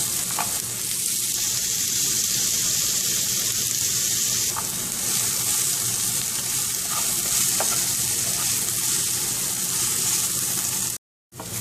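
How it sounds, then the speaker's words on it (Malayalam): Onion sautéing with ginger, green chili, curry leaves and a little salt gives a constant close sizzle, with spoon stirring throughout and a brief dropout near the end. "ഇപ്പോൾ സവാള ആവശ്യത്തിന് വഴന്നു കഴിഞ്ഞു"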